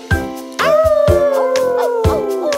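A wolf howl in a French children's animal song rises and then glides down in a long, sustained call over a bouncy musical backing with a steady beat, loud and close.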